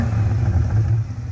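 A Chevrolet Corvette C8 Stingray engine just started and idling: a loud, close, deep rumble that holds steady for about a second before easing off slightly.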